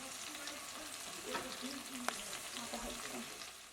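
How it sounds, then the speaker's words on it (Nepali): Chicken pieces frying in a pan for a Nepali-style curry with local chicken, a steady crackling sizzle with intermittent scraping stirs and one sharp utensil knock, close and moderately loud with no talking. "ल हेर्नु त अब चिकन राम्रोसँग फ्राई भइसकेको छ"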